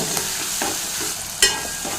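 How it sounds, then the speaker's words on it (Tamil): Onions sizzle and fry in a hot pan for a vegetable white kurma while a utensil stirs them, with scraping strokes and one sharper clack standing out over the steady crackle. "சேர்த்துட்டு அதையும் சேர்த்து நல்லா வதக்கி விடுங்க"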